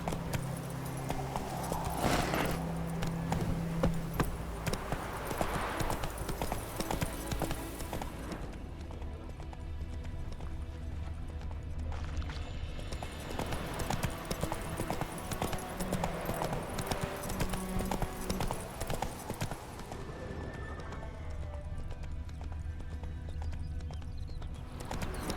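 Roach, the horse in The Witcher 3, gallops with steady rhythmic clip-clop hoofbeats over a continuous music bed, loud and close throughout.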